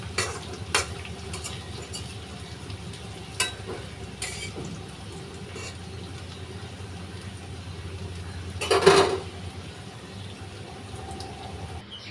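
Pangasius fish frying in a pan for a home meal, stirred now and then: a steady low sizzle runs throughout, with scattered soft scrapes and clinks of a spatula and one louder clattering stir near the end, no voices.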